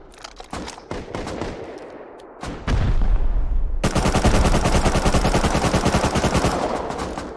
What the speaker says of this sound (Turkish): Tabanca mermilerini harcıyorum.